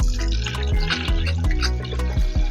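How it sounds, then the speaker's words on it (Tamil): Ghee is poured into a dry, heated pot big enough for about four litres while making potato payasam, giving close, repeated dripping and splashing liquid sounds. "இப்ப நெய் ஊத்திக்கலாம்."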